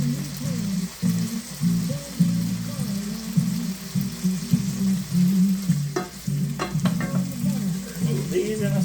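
Sausage browns in a pan with a low, uneven sizzle under repeated scraping and stirring, then a cluster of sharper clicks and taps toward the end.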